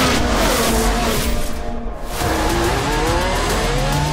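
Formula 1 race car from a video game overtaking, a loud close engine roar with pitch sweeps and a brief dip as it passes, alone.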